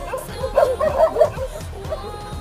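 Dogs give a few quick yips and barks in the middle of the stretch, fairly close, over faint background noise.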